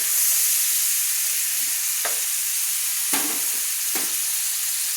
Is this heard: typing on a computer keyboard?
no